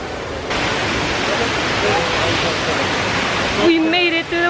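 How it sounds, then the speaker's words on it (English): Waterfall in Brazil roaring as a steady broadband rush up close, with a brief voice breaking in near the end. "We made it to the waterfalls after a 5-minute trek"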